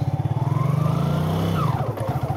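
A motorcycle carrying a rider and a passenger is ridden at close range, its engine thumping in a fast, even pulse before the pitch rises and slides as the throttle changes.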